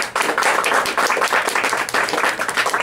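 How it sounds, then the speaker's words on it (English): Steady, dense audience clapping for a band, a close, continuous round of applause that fills the whole stretch without any voices over it. "give a big round of applause for them"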